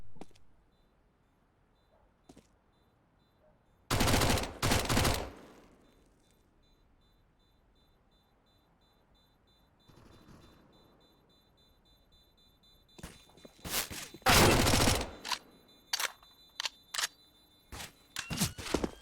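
SMG gunfire from Counter-Strike: Global Offensive at a tournament qualifier comes in dense rapid bursts, one around four seconds in and a longer rattle with scattered single shots later, between quiet stretches.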